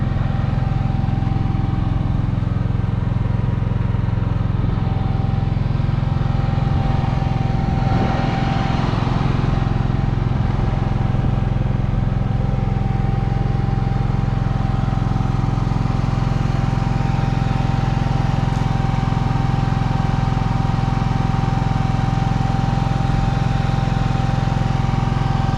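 A GENMAX GM10500iETC inverter generator runs on natural gas fed through a 50-foot hose, a steady low engine drone with a constant tonal hum, holding even loudness throughout with no talk.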